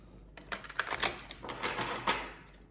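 A deck of tarot cards being shuffled gives quiet, close rustling and snapping bursts in a few quick irregular runs.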